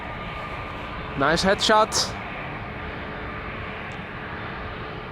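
An Airbus A321neo jet departs Amsterdam Schiphol with a steady engine roar throughout, and someone briefly speaks over it partway through.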